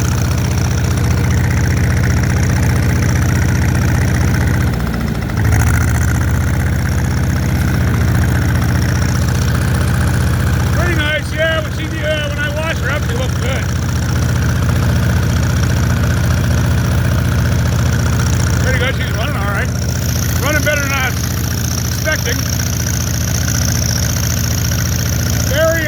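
An old Allis tractor engine idles with a steady low rumble and knocking throb, while someone talks intermittently over it and a few brief squeaky mechanical noises come and go.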